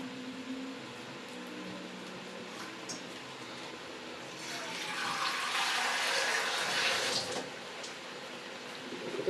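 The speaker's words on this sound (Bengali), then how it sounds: "একটু অল্প করে জল দিয়ে দেব" Water poured into a pot of Kashmiri aloo dum, a quiet splashing pour swelling in the middle and fading, over faint kitchen background.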